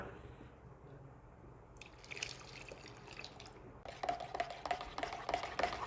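Liquid toilet cleaner mixture is stirred while more is poured in, giving soft sloshing and dripping that grows busier partway through and turns to a steady splashy churn, quiet and close.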